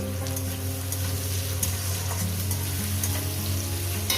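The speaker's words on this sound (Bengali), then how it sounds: "পেঁয়াজ কুচিগুলো দিয়ে এগুলো আমি ভেজে নেব" Chopped onions fry in a pan for an egg dish with potato and ridge gourd, giving a steady, close sizzle that holds evenly throughout with no voices.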